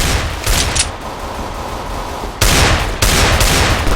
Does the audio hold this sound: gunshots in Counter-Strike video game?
yes